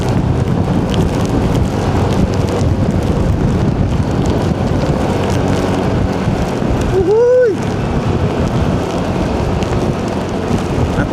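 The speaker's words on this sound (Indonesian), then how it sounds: "hujannya makin gede guys" Heavy rain pours down steadily near a bridge along Kalimalang, a dense, loud hiss with wind buffeting the microphone and a brief rising vehicle or horn tone midway.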